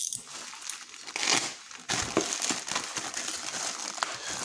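Crinkling and crumpling of DOOGEE Y8 smartphone box packaging being opened, busy rustling throughout with a brief pause midway, close and moderately loud.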